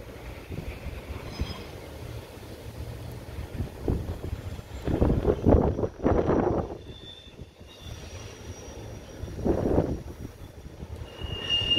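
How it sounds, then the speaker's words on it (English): A CSX intermodal freight train rumbles past at a moderate distance, swelling twice in broad low roar amid steady wind noise, with faint high metallic squeals from the wheels. "And there he is. CSX Intermodal train."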